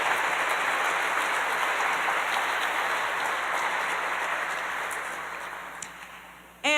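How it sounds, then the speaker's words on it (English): Sustained applause from a wellness summit audience for a morning panel of doctors and researchers, a broad dense roar of clapping that holds steady then gradually thins and fades out. "Round of applause again, please, for all of them."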